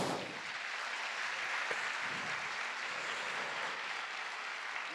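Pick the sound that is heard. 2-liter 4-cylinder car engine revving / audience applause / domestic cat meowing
audience applause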